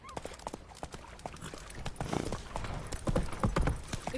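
Horse hooves clip-clop steadily in a fantasy role-playing video game, a moderately loud, even rhythm of hoofbeats running through the whole stretch alongside ambient game noise, with a faint snort or whinny.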